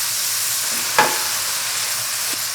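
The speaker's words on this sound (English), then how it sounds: "So just a stir. Stir and cook." Pork belly stir-fries in a pan for Korean dumpling filling, a soft steady sizzle with one brief scrape of a utensil near the start, quiet and without talk.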